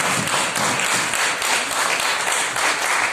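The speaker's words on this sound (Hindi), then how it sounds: "तालियां बजाकर स्वागत है।" A crowd clapping in welcome at a Mission Vande Matram Foundation event, dense, loud applause from many hands, continuous throughout.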